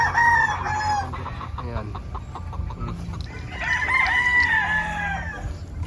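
Early bird bullstag and pullet chickens crowing and clucking nearby, with several overlapping crows and scattered clucks, and someone talking briefly in the background.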